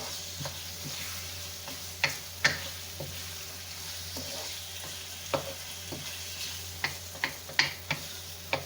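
Masala and mixed vegetables frying in a pan with coriander, a steady soft sizzle under occasional sharp clicks and scrapes of stirring, close and fairly quiet with no talking.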